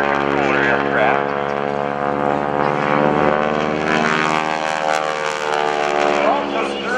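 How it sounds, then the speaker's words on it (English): A North American Texan propeller airplane at the 2015 NAS Oceana airshow gives a steady, loud, buzzing propeller drone that slowly shifts pitch as it passes, with an announcer talking over it. "North American Texan airplane."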